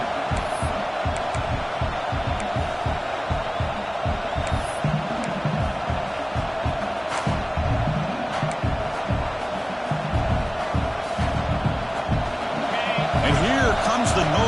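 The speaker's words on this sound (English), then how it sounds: "This crowd is trying to inspire this defense to make a big red zone stop." Stadium crowd roaring in the College Football 26 video game during a red zone defensive stand, a sustained loud rumble with swelling cheers and thumps, heard beneath ongoing commentary.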